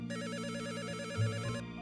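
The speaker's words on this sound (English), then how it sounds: "The phone's ringing." A telephone rings in the Return to Shironagasu Island game, a steady electronic warbling trill repeating at a quick even pulse for under two seconds, clear and fairly quiet with no voices.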